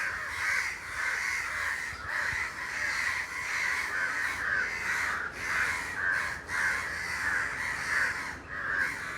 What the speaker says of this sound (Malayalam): നിങ്ങൾ കാക്കച്ചകൾ ഇങ്ങോട്ട് വരുന്നുണ്ട്